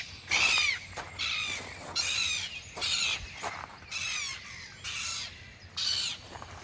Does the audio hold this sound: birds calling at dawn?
yes